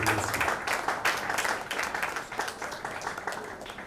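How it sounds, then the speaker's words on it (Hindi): An audience claps and cheers in a steady, lively burst of applause at a music channel launch event, moderately loud and continuous throughout. "तालियां।"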